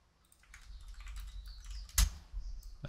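Light, near clicks from a computer keyboard come in short irregular bursts, with one sharper louder keystroke near the end, over a quiet room.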